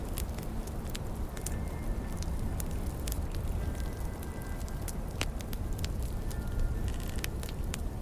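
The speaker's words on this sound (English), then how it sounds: "Focus on the sound of the firewood crackling." Firewood crackles and pops softly and irregularly over a steady low rumble of burning, with scattered sharp snaps throughout.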